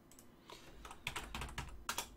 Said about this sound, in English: Typing too quick.